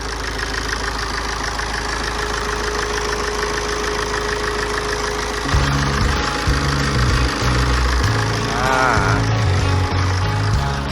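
A TATA 2.2-litre common-rail diesel engine of about 140 horsepower runs steadily, a loud close rumble with a ticking diesel knock, its tone shifting midway as the running note changes.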